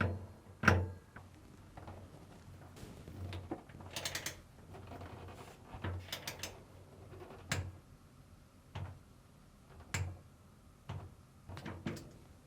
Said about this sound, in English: tighten the screw using a 5mm Allen bit and torque it to 7 foot-pounds or 10 Newton meters